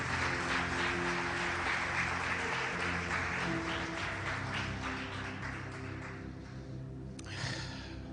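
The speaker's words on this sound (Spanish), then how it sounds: "Give a round of applause to the Lord." A church congregation applauds for the Lord, a broad patter of many hands clapping that stays steady for several seconds and then fades into a quieter room.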